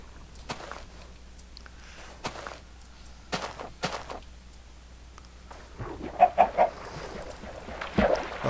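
Chicken clucks from Minecraft, a handful of short clucking bursts that grow louder and closer toward the end after scattered quieter thumps and game noises earlier.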